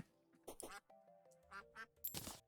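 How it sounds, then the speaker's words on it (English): Duck quacks from the video game Terraria, several short nasal calls in a loose irregular series with a louder burst at the end, heard alone without talk. "I swear I just heard one of these go and go quack."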